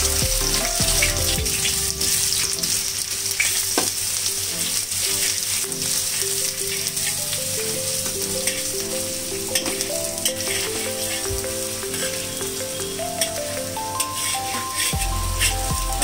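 Onions and dried chillies fry in a pan, a steady close sizzle and crackle running throughout with occasional stirring scrapes and no talk.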